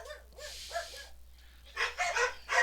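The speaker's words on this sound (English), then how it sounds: "Dogs set up a howl as" Dogs cry out in a tabletop horror game session, a series of short, fairly close yelps and whining barks coming in clusters, with a more intense burst near the end.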